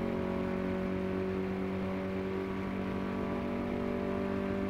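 A Koenigsegg One:1 engine in the Car Mechanic Simulator 2018 video game holds a high, steady, humming drone at sustained revs, loud and even throughout with no other sounds.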